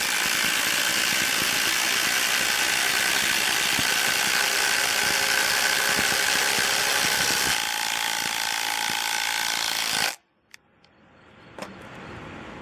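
Brushless impact drivers, a Ryobi and a Masterforce, hammer bolts in a continuous loud, rapid rattling whir lasting about ten seconds, then stop abruptly, leaving faint clicks.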